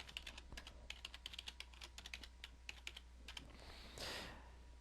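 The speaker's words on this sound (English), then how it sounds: "So I'll key in the information and give Ken a login to the network." Quick, light clicking of a computer keyboard while account details are entered in business software, faint and close, with an uneven typing rhythm and a soft rustle near the end.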